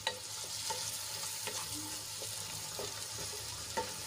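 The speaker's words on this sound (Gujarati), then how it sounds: "અહીંયા મેં બે ટમેટાને ઝીણા કટ કરી લીધા છે એ એડ કરી દઈશું અને ડુંગળીમાં સરસ રીતે મિક્સ કરી લઈશું" Finely chopped tomatoes are stirred into onions frying in a pan, with a close crackling sizzle broken by several sharp spoon scrapes and taps and no talking.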